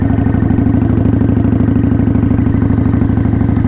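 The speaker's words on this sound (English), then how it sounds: "let off the throttle, clutch in, click down to second, gas, off throttle." A motorcycle downshifting into second gear at about 20 mph: the engine drops as the throttle is released, the clutch is pulled and the shift clicks, then it picks up again, a steady pulsing mid-pitched engine note, close and loud throughout.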